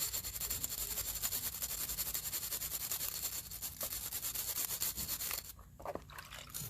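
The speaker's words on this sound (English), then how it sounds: "you might want to get yourself a wire brush, because it'll help with scrubbing some of that stuff off of there" Wire brush scrubbing a carburetor part, a continuous close rasping scrub with fast back-and-forth strokes that eases off near the end.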